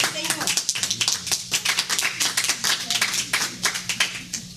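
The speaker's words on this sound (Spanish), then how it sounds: "Dele palmas al Señor." A church congregation claps hands in a fast, fairly steady rhythm, many overlapping claps close and lively, with voices mixed in beneath.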